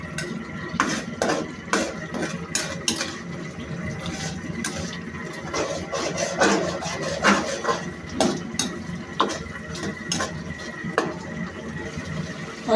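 A spoon scrapes and knocks against a cooking pot while chicken is stirred and fried with garlic ginger paste, with repeated clinks and scrapes at an uneven rhythm over a soft sizzle, close-up.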